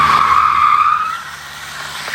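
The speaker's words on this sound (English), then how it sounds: "it goes into drift mode. And can confirm it will do massive donuts. It just like it obliterates the tires." Kia EV6 GT electric car spinning donuts in drift mode, its tires letting out a loud, sustained high screech that fades slightly partway through, with no talking.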